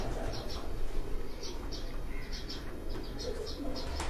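Pigeons kept on a rooftop by a breeder, with soft repeated coos and bird calls against constant low background noise, moderately close and fairly quiet.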